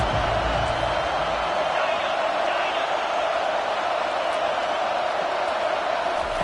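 A stadium crowd at a football game roars steadily on a big third down, a dense sustained wash of cheering that fills the space under a commentator's voice.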